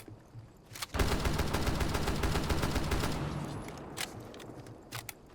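Rapid automatic-sounding rifle fire from a DMR in the video game Rainbow Six Siege, a sustained burst of sharp shots for about three seconds followed by a few scattered single shots.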